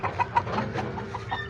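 Chickens cluck in short repeated bursts close by, a busy flock chattering in quick uneven rhythm without voices over them.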